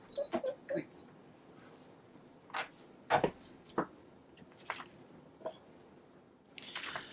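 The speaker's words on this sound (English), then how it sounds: "Sorry if you hear a dog whining in the background." A female dog whines in short, intermittent yelps and whimpers while scratching at an itchy, sore ear, the faint cries scattered across a quiet indoor background.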